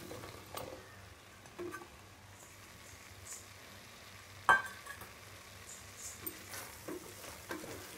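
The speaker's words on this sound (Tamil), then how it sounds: "அடுத்து கட் பண்ணி வச்சுருக்க காளான் இதில் சேர்த்துடலாம்." Chopped mushrooms go into a pan of hot masala for mushroom biryani, a soft, low sizzle under occasional scrapes and stirring clatters, with one sharper clink partway through.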